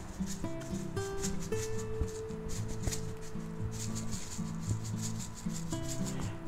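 Coarse kosher salt being rubbed and patted into a thick chuck roast steak, a steady close scraping and rubbing that runs continuously.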